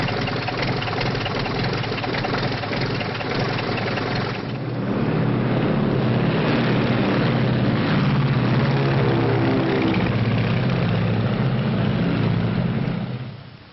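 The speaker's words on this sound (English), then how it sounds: "I got a ship all ready to take off." A propeller airplane engine from a 1939 film runs steadily, then swells louder and deeper as it revs up for takeoff, a continuous droning hum held at close range before fading at the end.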